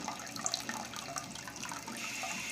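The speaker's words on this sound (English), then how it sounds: "when this floater is all the way down, there's water flowing here." Water running into a toilet tank through the fill valve while the float sits low, a steady hissing rush with faint trickles, continuous and close throughout with no talk.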